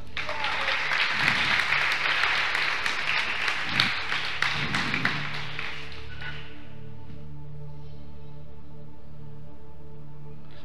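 A church congregation bursts into applause, dense clapping with some cheering for about six seconds, then it fades to a sustained keyboard or organ chord ringing on alone.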